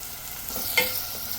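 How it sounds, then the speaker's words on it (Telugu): Two medium onions and curry leaves frying in hot oil give a steady, quiet sizzle, broken once by a short stirring scrape, with no voices. "ఈ ఆనియన్స్ గోల్డెన్ బ్రౌన్ కలర్ వరకు ఫ్రై చేసుకోవాలి."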